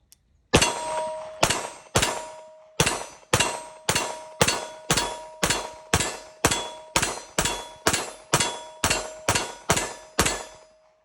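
A CZ Shadow 2 Optics Ready steel-frame pistol fires a steady string of about sixteen sharp, ringing shots, first double action then single action, each crack trailing a metallic ring with brief pauses between.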